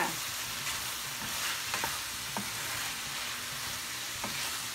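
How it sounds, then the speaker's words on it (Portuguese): Steady, close sizzling of beef liver frying in a hot pan, with a continuous hiss and occasional small pops, no voices. "Meio quilo de fígado de boi. Vou deixar continuar fritando."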